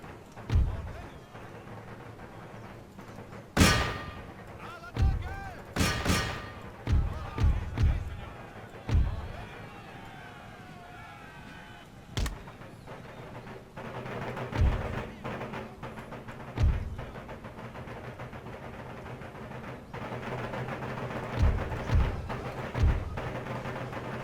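Cannon and musket fire in Empire Total War, a series of booming thuds and sharp cracks at irregular intervals, some distant and muffled, others close and loud, spread over a low battlefield rumble.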